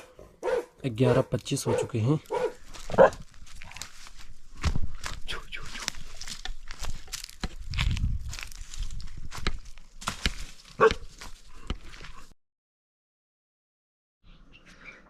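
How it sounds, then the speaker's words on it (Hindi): A dog barks loudly and repeatedly at night outside a hillside home where a tiger is feared nearby, the bursts coming in an irregular series mixed with someone talking, then silence near the end. "कुत्ता लगातार भौंक रहा है बहुत तेज़"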